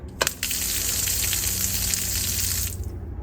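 Water gushing from an outdoor garden tap just after the main supply is switched back on, a steady loud hiss and splash running for several seconds before tailing off, with no voices.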